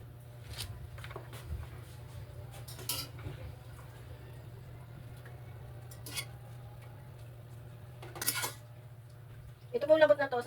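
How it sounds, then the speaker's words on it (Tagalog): Kitchen clatter while a container is fetched: scattered light clinks of cutlery and dishes over a low steady hum, with a louder rattling burst near the end. "Wait lang po at kukuha po ako ng lagyan."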